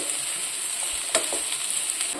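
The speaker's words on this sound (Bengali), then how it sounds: "এখন এই আলু আর কোয়াশের মধ্যে বেগুন আর পটলগুলো দিয়ে দিচ্ছি দিয়ে আরেকটু বেশ ভাজা ভাজা করে নিয়ে নামিয়ে নেব" Potato, squash, eggplant and pointed gourd fry in a pan with oil for a Bengali dish, giving a steady close sizzle and crackle with a few soft stirring scrapes and no talking.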